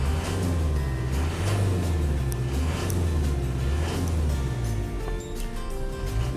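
A used Isuzu Elf truck diesel engine with 352,000 km runs with a steady, loud, even rumble as the idle is raised, its drone rising and falling slightly without any talking.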